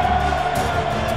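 A San Lorenzo football crowd applauds and cheers a player at a league championship celebration, a dense, loud roar of clapping and shouting filling the stadium throughout.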